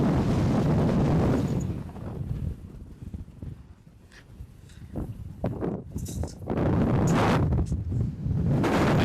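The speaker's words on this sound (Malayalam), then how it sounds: "ഭയങ്കര കാറ്റ്." Strong wind buffets a microphone during a road trip toward Pune, a loud low roaring rumble that eases briefly in the middle before gusting hard again.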